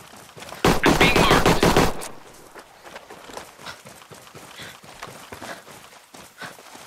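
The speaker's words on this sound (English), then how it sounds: "I hear gunfire." Automatic gunfire bursts loudly for about a second in a Ghost Recon Breakpoint PvP match, then gives way to a steady run of quieter, distant shots and footstep-like taps.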